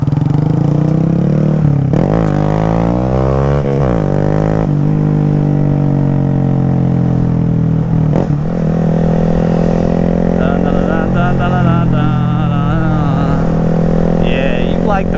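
Honda Grom motorcycle engine revving up and down near the listener, with rising and falling pitch sweeps over a steady idle, continuous for the whole stretch.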